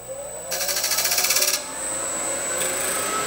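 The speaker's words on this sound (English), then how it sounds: "I'm gonna start off with a skew chisel." Skew chisel cutting a male tenon on a spinning wooden workpiece on a lathe, a loud rhythmic chattering scrape for about a second over a steady motor whine, then a quieter continuous hum.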